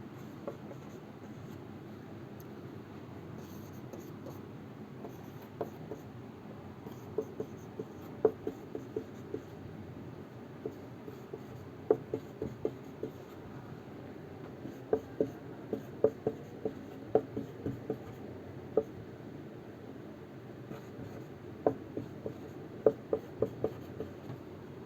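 Chalk taps and scratches on a board as a chemistry question is written out, a steady series of short, crisp strokes and clicks in a quiet classroom with no talking.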